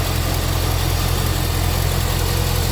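A car engine idles steadily under the hood of a dusty, already painted engine bay, a continuous low rumble with even vibration throughout, alone and fairly loud.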